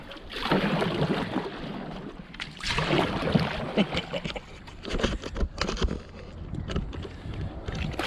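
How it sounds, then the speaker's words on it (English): A canoe is paddled solo along a lake shoreline, with steady splashing and swishing of water against the hull and paddle under gusts of wind noise on the microphone. "As I get back underway, I paddle along the western shoreline."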